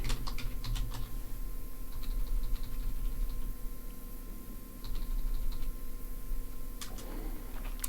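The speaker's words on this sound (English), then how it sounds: "You probably like the sound of the keyboard, Grace" Keys clatter on a computer keyboard in irregular bursts of close, crisp clicks, with short pauses between flurries and a low steady hum behind.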